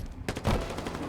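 Bursts of gunfire in the video game Halo Infinite during a 4v4 Arena Slayer match on the Bazaar map, with a sharp loud volley followed by sustained rapid shots close up.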